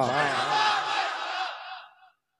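A large crowd at an Islamic religious gathering chants the slogan Nara-e-Mustafa in unison, a loud, massed burst of voices that swells and then fades out after about two seconds.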